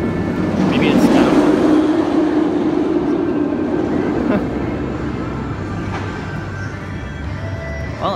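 The empty Bizarro roller coaster train at Six Flags Great Adventure rumbles along its track on a test run, a steady, broad roar that swells early and then slowly fades as it moves away.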